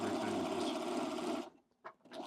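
A sewing machine runs steadily for about a second and a half while a blazer is being sewn, then stops abruptly, followed by a couple of faint handling clicks.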